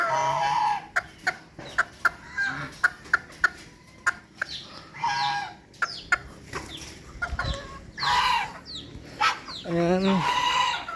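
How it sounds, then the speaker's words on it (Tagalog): Hens cluck in short, scattered bursts and a rooster crows near the end, fairly close, with faint background noise between calls. "manok yan"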